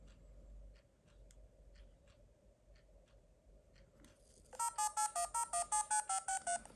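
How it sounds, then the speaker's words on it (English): A vintage Casio Databank phone dialer watch plays a rapid run of about eleven bright, evenly spaced dial-tone beeps, preceded by a few faint button clicks in a quiet room. "that code will go through to the handset and it will dial the number. Yeah, that beep."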